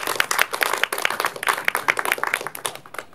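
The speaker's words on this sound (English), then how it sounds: "please give a little applause for our guest" A live audience at a talk marking Ingmar Bergman's centennial claps to welcome the guest speaker, a steady patter of many hands at moderate distance with no talking over it, tapering toward the end.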